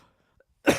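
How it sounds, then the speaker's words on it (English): A man's single sharp cough bursts out close and loud after a short quiet pause. "I've got a bad cough today"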